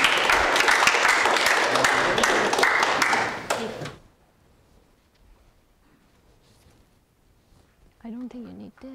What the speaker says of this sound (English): So maybe help them with a round of applause.